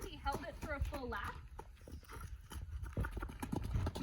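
A horse cantering in an arena, with rhythmic clip-clop hoofbeats throughout, heard under a person talking at the start.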